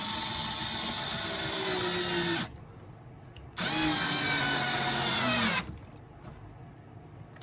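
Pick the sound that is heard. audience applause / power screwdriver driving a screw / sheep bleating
power screwdriver driving a screw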